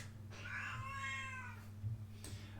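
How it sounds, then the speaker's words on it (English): A pet cat lets out one drawn-out meow up close, rising and falling over about a second, with a faint second call starting near the end over a low indoor hum. "That's my cat."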